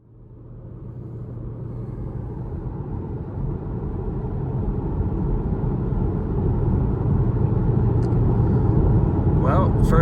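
A new Porsche drives home on a rainy road, its steady rumble swelling gradually into a constant loud roar of engine and tyre noise.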